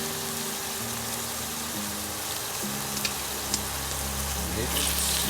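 Pork for adobo simmers and sizzles in a pan with a steady, close frying hiss, while low tonal hums run underneath and a couple of small clicks pop out.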